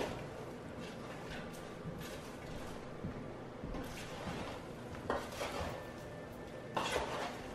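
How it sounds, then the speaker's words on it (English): A spoon scrapes and clanks around a pot of caramel corn, with soft irregular stirring scuffs and a few sharper metallic knocks, quiet and close. "literally just give it a stir."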